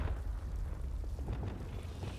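A Confringo spell explodes in a Harry Potter video game, a dense rumbling blast with a low boom and crackling bursts that hold steady and loud across the whole moment.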